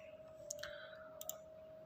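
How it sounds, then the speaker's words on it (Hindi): Mouse clicks on a computer's Next button during a Microsoft Teams sign-up, a few sharp, quiet clicks over a steady electronic hum. "नेक्स्ट पे क्लिक करना है।"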